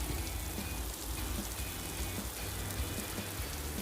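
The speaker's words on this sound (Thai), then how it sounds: "ฝนพรำๆค่ะ" Steady light rain patters on a surface in a park garden in Stuttgart, Germany, a continuous soft hiss of drizzle with no talking.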